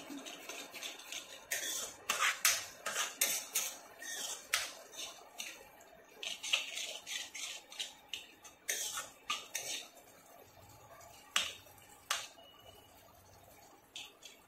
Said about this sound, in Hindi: इसको करीब 2 मिनट तक भूनते हैं